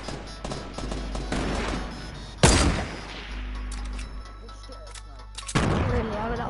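Gunfire in the video game Fortnite: a loud close shot with a sharp boom, scattered bursts and a second heavy blast near the end, with people talking over it.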